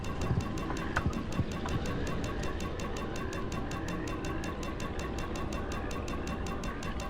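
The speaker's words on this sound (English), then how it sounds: "I think that's the sound of my gas being low" A car's low-fuel warning in the driving game Pacific Drive pulses in a steady, rapid throbbing rhythm over a droning engine hum, loud and continuous throughout.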